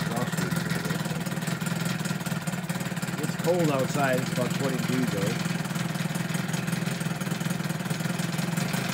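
A 1988 Evinrude 15 hp outboard motor idles steadily in a test tank, running a bit rough as if choking on its exhaust, with someone talking briefly partway through over the constant engine drone.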